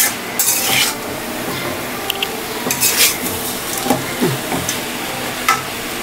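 A metal spoon stirs batasi fish with kochu, data and potato in a pan, scraping and clinking in irregular bursts over a soft background hiss.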